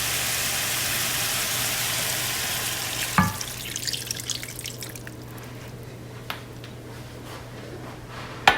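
A cup of water is poured into a pot of stewing pork with onion, giving a rushing, splashing pour for about three seconds, followed by a quieter sizzle and a few scattered drips and clinks.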